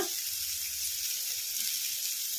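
Onions fry in a pan with turmeric powder stirred in for an onion chutney, a steady, even sizzle and hiss at moderate volume with no talking.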